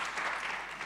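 A brief burst of steady, dense clapping from an audience at a university postgraduate open day, heard alone and fairly soft.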